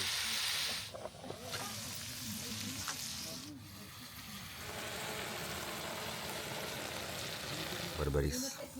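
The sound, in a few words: onion frying in oil over a field stove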